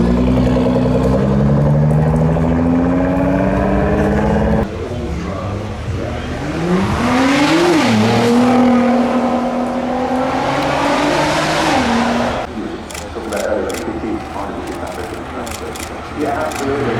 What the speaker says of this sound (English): Let's see it hit the Festival of Speed hill climb.